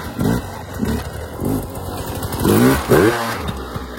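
A motorcycle engine in a video game revs in a few rising and falling surges, loudest near the end, over a steady background mix.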